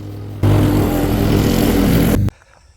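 An engine grass cutter mowing grass on a mountain property, a loud steady motor drone that starts abruptly and cuts off after about two seconds.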